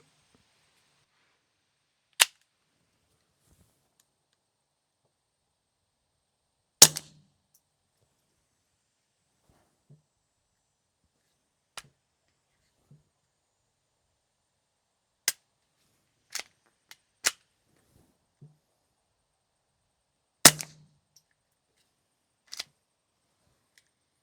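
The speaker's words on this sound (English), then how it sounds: "I will switch to my Ruger RXM with the conversion on top." Suppressed .22LR shots from a Ruger RXM fitted with an Advantage Arms conversion and an FTN5 rimfire slim suppressor, a dozen or so sharp, dry cracks spaced irregularly in near silence, a few louder than the rest.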